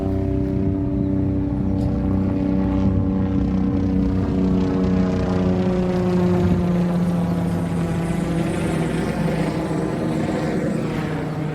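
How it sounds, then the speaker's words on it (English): A helicopter passes overhead at Orange Beach, Alabama, with a loud, steady throbbing engine drone that rises and then shifts in pitch as it moves by, heard alone without talking. "Here comes a helicopter"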